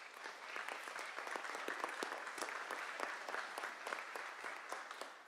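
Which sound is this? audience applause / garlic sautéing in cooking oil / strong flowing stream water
audience applause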